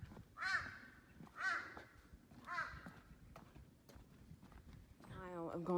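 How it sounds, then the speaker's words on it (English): A crow caws three times in a slow, evenly spaced series on a wooded hiking trail up Mt Hallasan on Jeju, moderately near and clear, followed by a voice at the end. "Imagine if that was filled with a loud bird, and it's just a crow."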